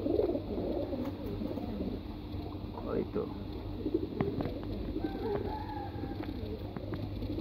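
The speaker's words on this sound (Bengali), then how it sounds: "এই কবুতরগুলো সবই আমার ব্রিডার কবুতর, অল্প কিছু বাদে।" Pet breeder and flying pigeons kept in a home loft coo softly and repeatedly in the background while someone speaks briefly over them, with a steady low hum throughout.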